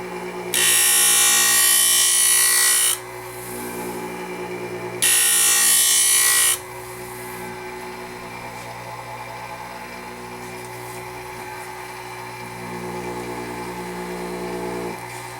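A Wissota 911 skate sharpener grinds a Bauer Volt hockey skate blade in two loud, bright bursts of a few seconds each, then drops to a steady lower motor hum that runs through the rest.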